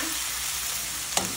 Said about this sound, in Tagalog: Sangkutsa muna natin